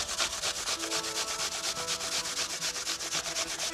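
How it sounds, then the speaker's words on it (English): Apples are grated for a light caramel in a home cooking setting. Steady, rhythmic rasping strokes scrape back and forth, close and moderately loud. "Grate two apples."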